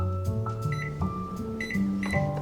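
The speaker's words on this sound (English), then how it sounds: "I'm going to take a little bit of my soap base and pop it in the microwave and just warm it up." A microwave oven hums steadily while warming melt-and-pour soap base, with tonal beeps and clicks layered over the low drone, close and moderately loud.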